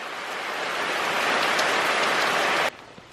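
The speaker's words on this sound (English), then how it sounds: "Okay, it stopped raining for a little bit. Still raining, but not as much." Steady heavy rain hisses on foliage and ground during a trip to the Tumalog and Binalayan waterfalls in Cebu, loud and continuous before cutting off abruptly near the end.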